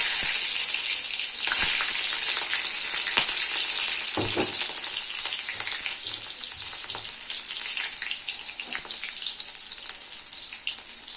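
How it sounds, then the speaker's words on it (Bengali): Dried red chillies and nigella seeds hit hot oil, starting with a bright, loud, crackling sizzle that spits and pops, then easing slightly into a steady frying hiss with occasional pan knocks. "তেল গরম হয়ে গেছে শুকনো লঙ্কা ফোড়নে দেবো আর হচ্ছে একটু কালো জিরে দেবো"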